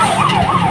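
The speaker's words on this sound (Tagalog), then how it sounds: "tabi muna tayo at merong ambulansya" An ambulance siren wails in a steady rising-and-falling sweep, loud and close, over low road and traffic rumble.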